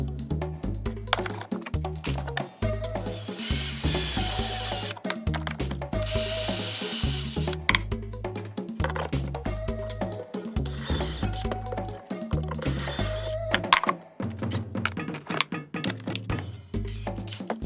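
A power drill drives screws through wooden brackets into drywall anchors on a wall of drywall over furring strip and cinder block, in repeated close, loud whirring bursts that rise and stop, with short pauses and clicks between runs.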